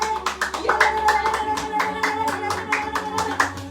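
A church congregation claps in acclamation during a morning worship service of prayer and praise, a steady rhythmic run of hand claps over sustained music, loud and close throughout.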